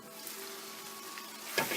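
Chopped tomatoes sizzle and fry in an oily pan with ginger-garlic paste for a beetroot sabzi, a steady close hiss with a brief clatter of stirring near the end and no talk.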